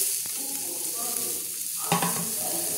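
Chopped onion frying in hot oil in a Bengali home kitchen, a soft steady sizzle with a stir and a brief clatter near the end, no talking.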